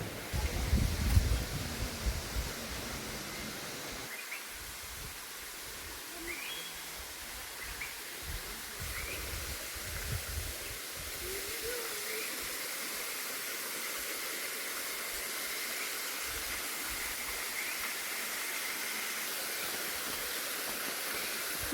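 Thusharagiri waterfall in summer, running with little water, gives a soft, steady distant rush in a forest setting, with some louder handling noise at the start and faint bird calls over it.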